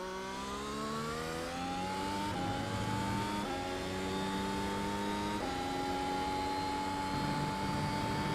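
Racing car engine on a warm-up lap in the iRacing sim, a steady high-revving whine with rising pitch sweeps and a few abrupt gear-change drops, loud and continuous with no voices.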